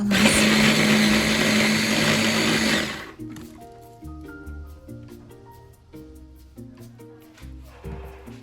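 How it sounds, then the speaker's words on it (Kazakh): A blender grinds raw chicken meat for Uyghur samsa filling, a loud close whirring motor running for about three seconds before stopping, followed by quieter background music. "Оны арнайы осы блендермен барлығын езіп, дайындап аламыз."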